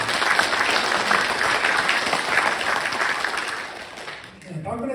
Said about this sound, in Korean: 박수 좀 크게 한번